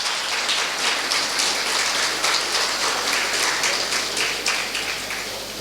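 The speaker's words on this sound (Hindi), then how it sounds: "जोरदार तालियां अमित जी वास्ते।" Applause from an audience at a Sikh job fair event as a guest is welcomed on stage, steady, dense clapping that holds throughout and fades slightly at the end, with no talk over it.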